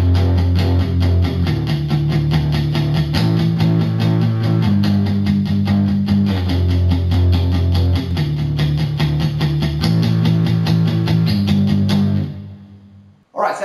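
A full distorted electric guitar riff from a song plays alone, loud and steady with rhythmic chord changes throughout, then cuts off abruptly near the end.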